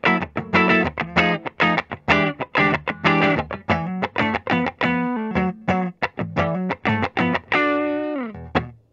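A 2021 PRS SE Zach Myers signature electric guitar played on its neck pickup through an effects unit, with strummed chords and picked notes in a steady rhythmic phrase, loud and up close with no talking.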